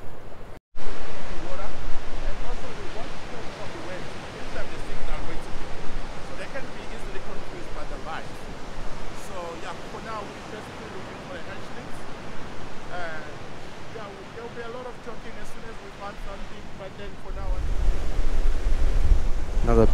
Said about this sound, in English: Not sure how much of this you're going to hear with the wind howling the way it is.